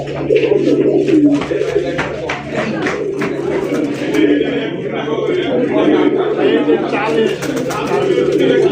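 Constant cooing of many fancy pigeons close by at a pigeon sale, a thick murmuring drone with faint clicks and rustles throughout.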